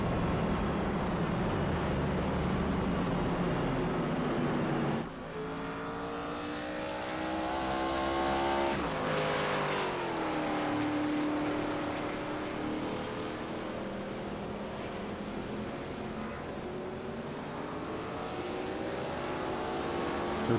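Race cars roar in an ARCA stock car race at Pocono in a racing video game, a dense pack of engines droning steadily, then rising in pitch together as they accelerate on a restart, loud and continuous throughout.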